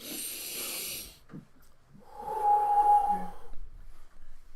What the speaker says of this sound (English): the solution is to do deep breathing